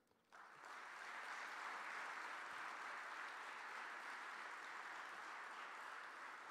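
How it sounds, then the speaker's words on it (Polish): Audience applause ringing through the hall at the opening of a ceremonial Kalisz city council session, starting suddenly and holding as dense, sustained clapping for several seconds. "poproszę Państwa jeszcze raz o oklaski, aby symbolicznie Państwo oklaskami otworzyli uroczystą sesję Rady Miasta Kalisza"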